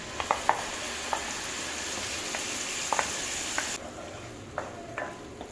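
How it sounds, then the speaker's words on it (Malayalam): Ground jackfruit sautés in ghee, a steady close sizzle broken by sharp clinks and scrapes of a spoon stirring against the pan, no talking. "ഇതേ നെയ്യിലേക്ക് അരച്ച് വെച്ചിരുന്ന ചക്ക ചേർത്തൊന്ന് വഴറ്റുക"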